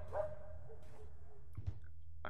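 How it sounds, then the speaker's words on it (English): A dog barks faintly in a horror video game, with short, quiet yelps over a low, steady background hum. "I'm hoping that's my dog."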